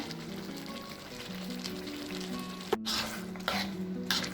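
Sambal ikan bilis frying in a pan sizzles steadily at close range, with a low simmering bubble and a few soft stirring scrapes near the end, no talk over it.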